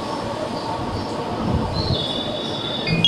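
A JR E233-1000 series Keihin-Tohoku Line local train pulls out of Yokohama Station, with a steady rumble of rolling wagons and rising squeals from motor and wheels that grow louder as it departs.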